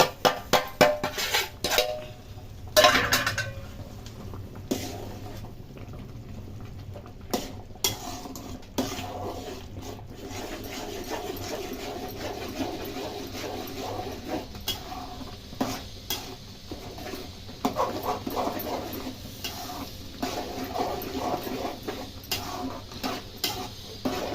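Upma being stirred in a pot with a spoon to keep lumps from forming, giving steady scraping and clinking against the metal, with a soft sizzle underneath throughout.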